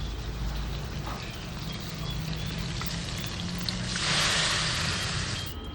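Paste for mustard pabda fish fries in hot oil with a steady close crackling sizzle that grows louder and hissier near the end, and no talking.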